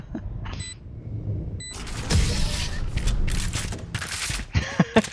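Rapid automatic gunfire sprays in a round of the video game Valorant, loud dense bursts of shots following a quiet start, with a few sharper cracks near the end.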